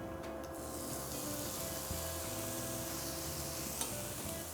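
Food sizzles and spits steadily in a hot pan, stirred with scraping and clinking strokes, a close, continuous frying hiss with no talk, in a dish finished with chopped coriander leaves and a squeeze of lemon.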